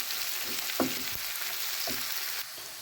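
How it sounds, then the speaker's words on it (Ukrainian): Beef and garlic cook in a pan for a Burgundy-style braise, giving a soft, steady sizzle with a few brief clinks or stirring knocks. No one speaks. "і до неї відправляю чесничок. разом це все тушимо, тушкуємо."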